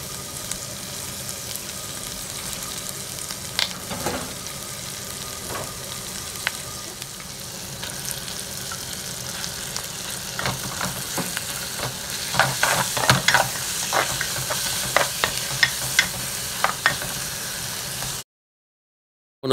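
Sri Lankan spicy and sour fish curry ingredients cook in a clay pot, giving a steady sizzle and bubbling hiss with intermittent scraping stirs and clinks that grow busier toward the end, with no talking.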